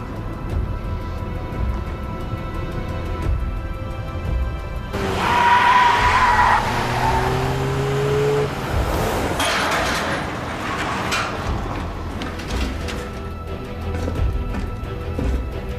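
A speeding car skids with a sharp tyre squeal in a dramatic sound effect that bursts in mid-stretch and fades into engine roar and rumbling road noise, loud against a quieter background before and after.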